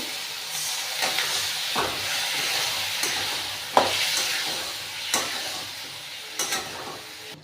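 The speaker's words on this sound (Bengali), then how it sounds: "মশলাটা আমি ভাজছি" Spice paste for Bengali dhokar dalna fries in a pan with a continuous hissing sizzle, punctuated by occasional scrapes and taps of a spoon, close by.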